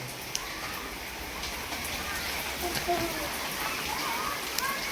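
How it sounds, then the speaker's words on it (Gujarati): Light drizzle falls steadily outdoors, a soft continuous patter of rain on surfaces with a few sharper drops, even and moderately close throughout. "આ થોડો થોડો વરસાદ ઝરમર ઝરમર ચાલુ છે"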